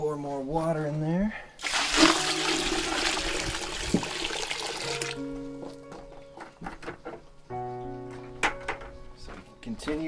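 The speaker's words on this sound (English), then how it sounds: "pour more water in there." Water poured through a filter into a bucket while refining clay from dirt, a noisy rushing splash that gives way to trickling and dripping, with a person speaking intermittently over it.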